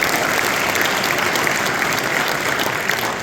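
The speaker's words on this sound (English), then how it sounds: "Give him a round of applause," Audience applause at an evening event with UFC lightweight champion Khabib Nurmagomedov in Chicago, a full and steady burst of clapping from a large crowd.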